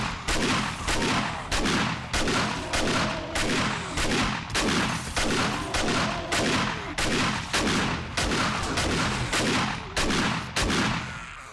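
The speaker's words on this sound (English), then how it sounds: "I think it's time for auto shotgun" Auto shotgun fire in the game 7 Days to Die, a rapid, relentless run of loud booming blasts, roughly two per second, each with a short decaying tail, continuing nonstop with no talking.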